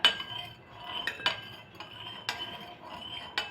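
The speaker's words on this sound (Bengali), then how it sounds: "এবার লবণ দেবো, দিয়ে জলের মধ্যে ভালো করে মিশিয়ে নেব লবণ আর জলটা।" A spoon clinks against a bowl while salt is mixed into water for crispy potato chips, giving several sharp irregular taps and scrapes, close and moderately loud.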